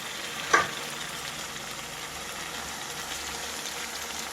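Prawns (gorakalu) drop into hot oil in a village-style kitchen, with a brief clatter as they go in, then a steady close sizzle of frying that continues without talk.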